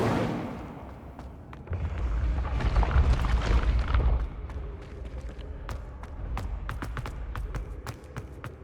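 An Incendio fire spell cast in the game Hogwarts Legacy: a loud, roaring whoosh of flame that swells for a couple of seconds, then fades into scattered sharp crackles and snaps.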